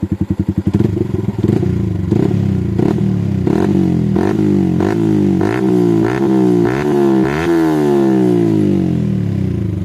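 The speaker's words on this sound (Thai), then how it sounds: "เดี๋ยวเราจะไปบิดเบิ้ลเบิ้ลเบิ้ลดู" A Yamaha Exciter 155 Fusion motorcycle with a Yoshimura exhaust is revved hard, loud and close, with a sputtering idle at first, then repeated rising blips and throttle surges, alone without talk.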